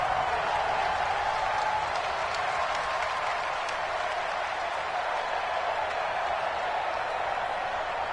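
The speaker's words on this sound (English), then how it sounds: "the crowd getting into it as we come up on a big third down" A football video game crowd on PS4 cheers and claps in a steady, dense wash of noise that holds at an even level throughout, with no single voices standing out.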